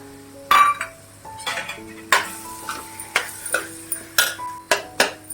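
Boiled potato is tossed and stirred into a pan of sautéed spicy Kolhapuri misal masala, with repeated clinks and scrapes of a spoon against the pan in a steady irregular rhythm, close and moderately loud, no talk.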